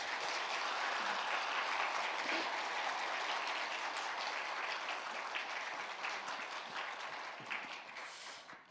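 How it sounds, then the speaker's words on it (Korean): A church congregation applauds in welcome during a Sunday morning service, a broad continuous roar of many hands that holds strong for several seconds before tapering off near the end. "우리 환영의 박수 한번 부탁드리겠습니다."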